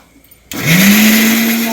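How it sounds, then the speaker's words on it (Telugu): An electric mixer grinder jar is switched on to blend three chopped tomatoes into gravy. After a brief quiet moment it bursts into a loud, steady whirring motor roar whose pitch rises quickly as it spins up. "ఈ మూడు టమాటాలు కూడా ఇలా మిక్సీలో చేసుకోవాలండి"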